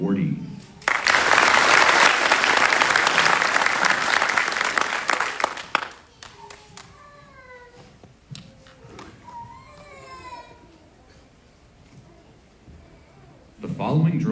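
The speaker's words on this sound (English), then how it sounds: "Please join me in a round of applause for the awardee." Audience applause for an awardee at a military drill sergeant graduation ceremony: loud, dense clapping fills the first six seconds, then fades into a quieter stretch with a few scattered sounds before noise swells again at the end.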